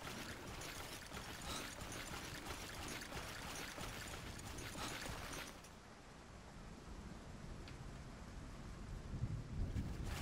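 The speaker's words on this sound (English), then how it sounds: "Turned out it's the thunderstorm in the distance, in-game that is." A distant thunderstorm in a video game rumbles low and steady beneath rain and wind noise, a continuous faint wash with no voices.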